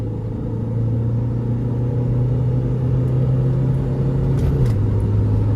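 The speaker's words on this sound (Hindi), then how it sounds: "भाई रोलिंग में एंडेवर ने गियर नीचे करा और चली गई वो।" Ford Endeavour 3.2 in a rolling drag race against an XUV500 drops a gear and pulls away, a steady loud engine drone with a brief pitch shift near the end.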